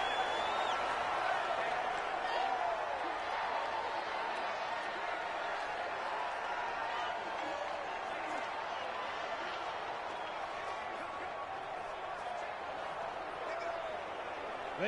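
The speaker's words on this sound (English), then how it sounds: "The crowd here in the Dome making things difficult." Crowd noise fills the Dome at an American football game in Madden 2020, a steady, muffled roar of cheering that holds under the running commentary.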